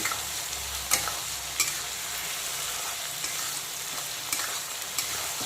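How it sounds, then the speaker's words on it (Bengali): Crushed garlic and chopped onion fry in a pan over low to medium heat for a mutton curry, giving a steady close sizzle broken by periodic stirring scrapes, with no talking. "এখন থেতো করা রসুনটাকে পেঁয়াজের সঙ্গে আবারও বেশ কিছুক্ষণ লো টু মিডিয়াম আঁচে কষিয়ে নেব।"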